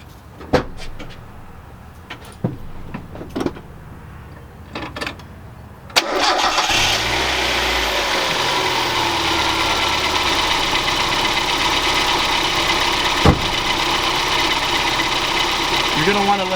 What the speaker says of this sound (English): Now we can start the engine up.